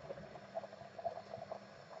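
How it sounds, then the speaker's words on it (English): Beef stew coming to the boil in a pan, a low steady bubbling and simmering close by with small irregular pops, no voices. "we've now brought this to the boil"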